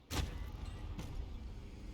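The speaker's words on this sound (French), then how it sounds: "Il y a la voiture qui vient vers nous." A car in the video game Warzone approaches. It is a steady, close engine rumble with two sharp bursts of noise over it.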